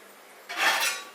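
A metal lid scrapes and settles onto a cooking pot with a single clattering rasp, close and clear, while shark fish curry simmers.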